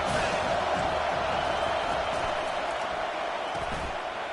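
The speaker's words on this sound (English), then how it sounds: "Here comes second down, and this crowd is turning it up a notch." A football stadium crowd roars in a steady, dense wall of noise during a second-down play near the goal line, holding loud and continuous with no clear rise in volume.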